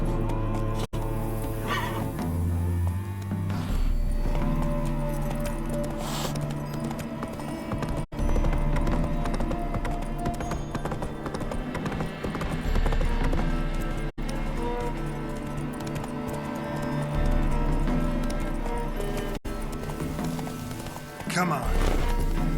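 Roach, a horse in the video game The Witcher 3, gallops with steady hoof clip-clops under a continuous music score and game ambience, with a voice speaking briefly.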